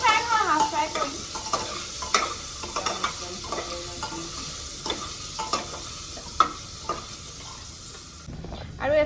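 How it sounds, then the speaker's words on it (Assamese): Fish half-frying in hot oil with salt and turmeric, a steady sizzle broken by repeated scraping stir strokes of a utensil in the pan, close and fairly loud, with no talking. "এইখিনি অলপমান লৰাই দিওঁ বেছি ফ্ৰাই নহয় হাফ ফ্ৰাই কৰিম"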